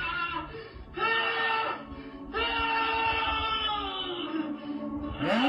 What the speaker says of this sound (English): This is a sample of a scream, just to kind of show you the pain.